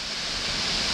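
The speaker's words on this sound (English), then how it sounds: "waterfall in full flow, still with some ice on it" Bridal Veil Falls in full flow, still partly iced over on a rainy day, gives a steady, dense roar of falling water that fills the air without a break.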